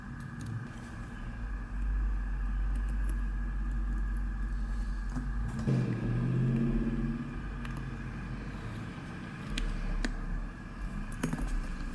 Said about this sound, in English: I really apologize for all the traffic